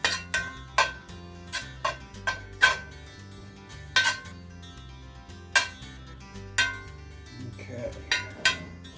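Almond flour is stirred into browned meat in a pan for a keto meat-crust pizza, making sharp, irregular clinks and taps of a utensil against the pan, close and distinct over quiet gaps.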